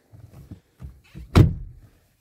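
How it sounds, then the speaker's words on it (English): A door on a 1998 Audi A6 C5 2.4L V6 sedan shuts once with a single solid, close thunk, preceded by faint low shuffling inside the car. "close the door."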